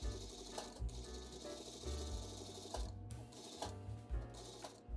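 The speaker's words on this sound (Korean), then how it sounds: "겉에서 그 암홀라인 2mm 간격에 몸판 쪽에 상층 박음질을 해줍니다" Sewing machine topstitching 2 mm from a shirt armhole seam on the body side, a close mechanical whir in repeated runs broken by short pauses and clicks, at low overall level with no talking.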